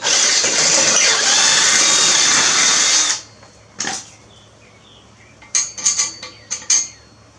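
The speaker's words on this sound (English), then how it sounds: "right now I'm drilling out the holes a little bit bigger" A power drill bores out bolt holes in a jumbo tricycle frame, whining loud and steady for about three seconds before stopping, followed by a few sharp metallic clinks and taps of parts being handled.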